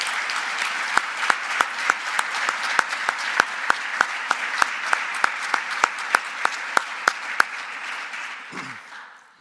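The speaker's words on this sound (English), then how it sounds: "please help me in joining a big round of applause for Dennis LeBlanc and all that he did" Sustained audience applause for a departing athletics director at a Nebraska press event, a steady crowd wash with one nearby clapper's sharp, regular claps standing out before it fades.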